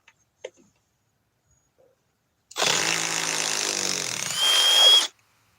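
A power drill backs out a self-tapping screw, one steady whirring run of about two and a half seconds that rises in pitch near the end, preceded by a few faint clicks and handling taps.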